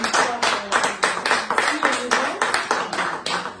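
A group applauds in rhythmic bursts of clapping while a voice talks over it.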